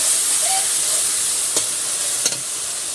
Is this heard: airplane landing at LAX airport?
no